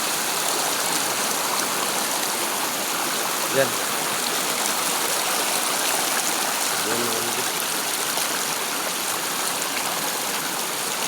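A river flows over rocks in a steady, loud rush of water close by. It continues without a break, and someone speaks briefly over it.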